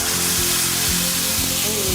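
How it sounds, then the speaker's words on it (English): Loud, dense sizzling of spices and tomato mix frying in hot oil, a continuous crackling hiss heard up close. "Look at the sizzle."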